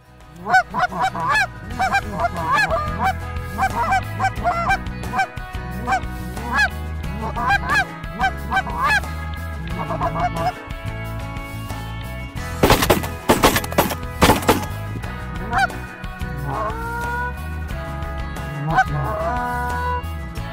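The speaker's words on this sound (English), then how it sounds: "Now we're set up for a Canada goose hunt here this morning." Canada geese honking loudly and repeatedly in a dense, overlapping chorus during a goose hunt in Saskatchewan, with a brief burst of gunshots partway through.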